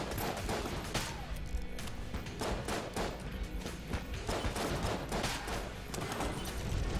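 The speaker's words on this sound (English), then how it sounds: "Remember, maroon shotgun guys shoot fast." Enemies with shotguns in Enter the Gungeon fire quickly and without pause, making a dense, loud clatter of overlapping shots and thuds across the whole stretch, with no talking.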